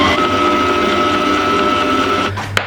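Electric whisk beating egg yolks, sugar and flour into a quatre-quarts pound cake batter: a loud, steady motor whine held close up, cutting out briefly near the end.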